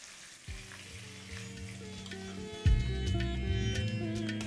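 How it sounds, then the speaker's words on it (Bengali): Prawns fry in a pan batch by batch, a continuous close sizzle of oil with steady crackling; a clunk and hum join in midway, with no talking. "এবারে একইভাবে আমি বাকিগুলোও ভেজে নিচ্ছি।"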